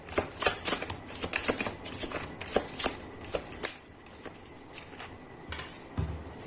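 Tarot cards riffled and shuffled by hand, a rapid series of crisp, close flutters and snaps that thins out into a few softer slides and taps as cards are pulled from the deck.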